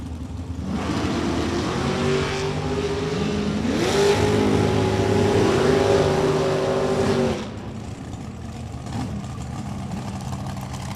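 A drag racing car launches down the strip at the ACE Ohio Events Summit Summer Slam, its loud engine roar climbing in pitch for about seven seconds before cutting back sharply.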